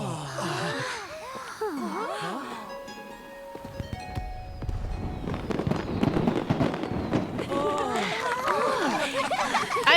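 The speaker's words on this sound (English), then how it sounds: "I love that Venti's new ability is queuing up fireworks as well." Venti's fireworks ability in Genshin Impact bursts with crackling pops and bangs under lively game music, while voices chatter and sing over the top.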